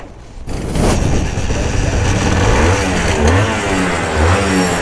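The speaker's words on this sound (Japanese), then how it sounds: "じゃあちょっとエンジンかけてみましょうか。" A legendary two-stroke motorcycle engine is started and catches right away, settling into a loud, close, raspy buzz with a quick rev at the start and uneven pulses as it runs on, no voices over it.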